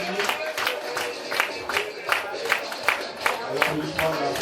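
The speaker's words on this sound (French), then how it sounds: "à l'applaudissement de la salle" Applause from an audience in a hall greets the arriving delegation, a dense run of clapping with crowd murmur and voices mixed in, steady and fairly close throughout.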